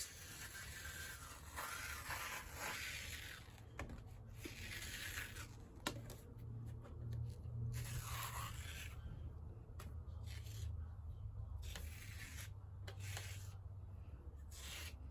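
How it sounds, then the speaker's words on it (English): A cut sheet being peeled in one quick pull off a Brother Scan'N'Cut cutting mat, giving a steady close rubbing, scraping rustle that runs without pause, with no talking. "Should we just do like a really quick peel, like a band-aid?"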